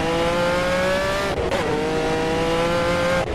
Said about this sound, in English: Hear that sort of little screeching sound.